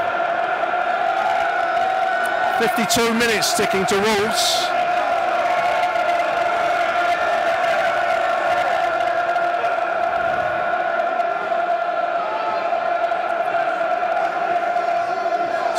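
A football crowd at Millwall stadium roars and chants steadily in the stands, loud and continuous, with a rising surge of cheering a few seconds in, while a commentator talks over it.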